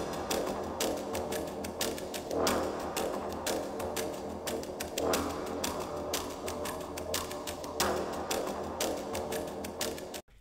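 Layered loop of explore-state video game music built in Wwise, a bouncy rhythmic track with regular percussive clicks and taps repeating through a steady, busy texture at even loudness.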